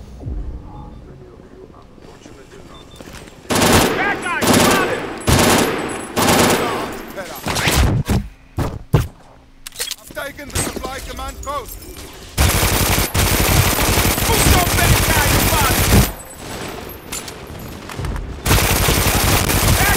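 A Tampa gun fires in the shooter Brink, heavy volleys of loud close gunfire that start, stop and resume, with stretches of sustained firing over a humming background.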